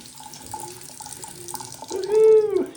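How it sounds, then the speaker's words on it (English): Hot water runs from a household faucet during a snowstorm, a low, steady trickle that swells into a louder gush near the end. "I'm gonna let the hot water just drip tonight."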